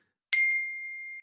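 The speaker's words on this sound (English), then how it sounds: "sorry that my phone is going off" A mobile phone notification rings out as a single clear ding, a bright metallic strike whose pure tone rings on and holds for nearly a second before cutting off, alone in a quiet room.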